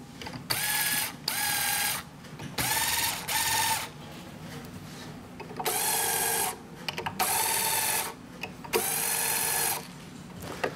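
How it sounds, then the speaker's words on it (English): Tuning machines on an acoustic guitar headstock being turned to loosen the strings, with repeated bursts of ratcheting gear clicks and faint pitch-bending string tones, interrupted by brief pauses. "Hold my strings, I'm going to loosen them slowly."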